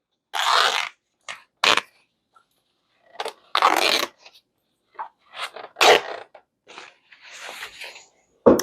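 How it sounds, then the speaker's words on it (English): Tearaway embroidery stabilizer ripped away from a machine-embroidered quilt block in short, crisp tearing bursts, close and isolated with silent pauses between each pull. "We're going to rip off the tearaway."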